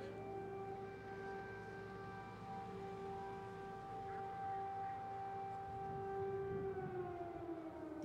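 An air raid siren wails over Independence Square in Kyiv, a long steady tone carrying from a distance over low city rumble, its pitch starting to slide downward near the end, with no one speaking.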